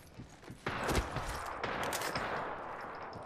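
Rapid gunfire in the battle royale shooter Apex Legends, bursts of automatic shots cracking in close succession over busy game noise, moderately loud and continuous after a brief quieter opening.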